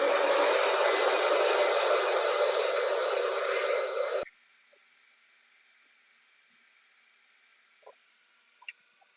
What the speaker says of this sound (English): you just want to vacuum all of that up